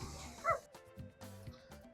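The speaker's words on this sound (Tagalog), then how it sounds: "Mababait naman yung mga doggies na yan. Medyo palakahol lang talaga sila." Dogs along a seaside walking route bark and yip in short bursts, several sharp calls spaced irregularly, moderately close and fairly loud.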